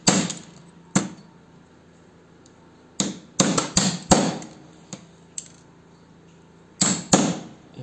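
A hammer strikes a big chisel against a fluorescent light transformer ballast casing in a series of sharp metallic smacks, some single and some in quick clusters, loud and close with quiet pauses between.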